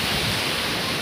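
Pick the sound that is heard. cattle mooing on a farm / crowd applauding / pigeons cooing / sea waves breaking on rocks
sea waves breaking on rocks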